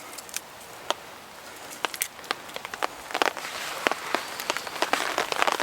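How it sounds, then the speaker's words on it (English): Rain and wind patter on a camping tarp with scattered, irregular droplet taps over a soft hiss that builds and grows busier toward the end. "that wind and that rain's starting to get up, you can probably hear it on the tarp."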